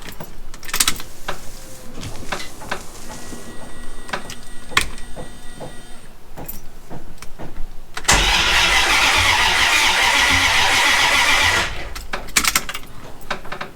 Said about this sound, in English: Well, the starter works.